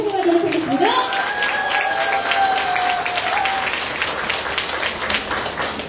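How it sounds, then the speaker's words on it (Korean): Steady applause fills the space, a crowd at a Democratic Party women's committee year-end event in Jeju clapping continuously while a voice speaks briefly over it at the start. "여러분의 뜨거운 박수로 고민정 의원님을 환영하도록 하겠습니다"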